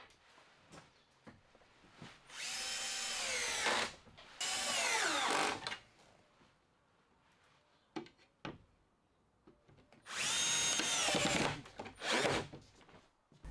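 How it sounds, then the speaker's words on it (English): A cordless power drill driving screws up through a plywood top into a workbench from underneath, three long whirring runs at close range, each winding down as the screw seats, with light handling knocks between them. "So I can now get this bit of ply put into place and some screws driven in from underneath."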